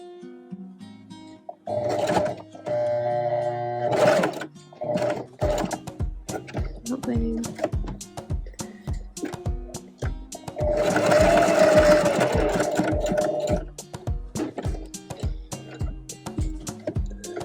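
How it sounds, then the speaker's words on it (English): A sewing machine stitches an inverted notched collar on a McCall's garment in one continuous line. Its rapid, even stitching chatter runs close and loud for long stretches, with brief stops and some talk mixed in. "I think the directions want you to sew this way and stop, and then sew this way and stop"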